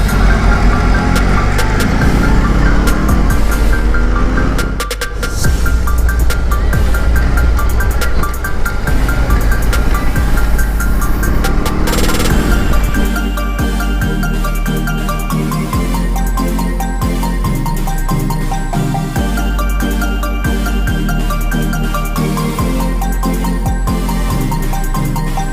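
A BMW R18 motorcycle engine on a test ride gives a loud, continuous drone whose pitch rises and falls with the throttle and never drops out over the whole ride.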